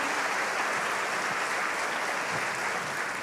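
A concert audience applauds the performing artists at a tribute concert, a dense, continuous wash of clapping from a large crowd that stays loud and even throughout.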